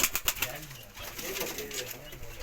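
A tumbler pigeon coos in low, rolling notes outdoors near a rooftop, fairly close but soft, after a few sharp clicks and rustles at the start.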